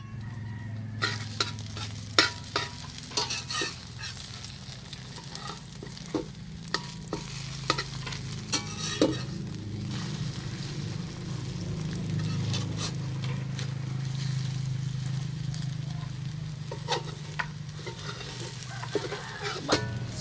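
Eggs fry steadily in a pan with a constant low sizzle, punctuated throughout by sharp scraping and stirring clicks of a utensil against the pan, close and fairly loud.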